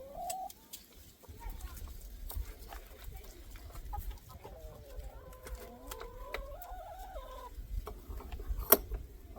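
Backyard chickens cluck and murmur softly in a loose, irregular chorus, with a few rising warbling calls and scattered faint taps and rustles around them at low volume.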